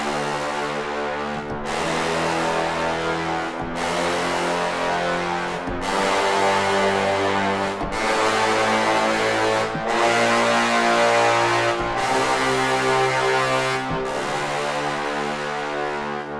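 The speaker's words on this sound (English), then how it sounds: "So let's just start off with the brass patch that I have loaded up." Spitfire Bones Phalanx brass sample patch playing a sequence of sustained chords, each held about two seconds and then changed, loud, full and alone with no talking.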